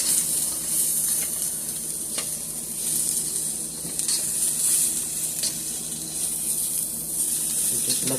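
Beef cubes sizzle steadily in a hot pan with no butter as they are stir-fried, a constant close hiss with faint scrapes from stirring.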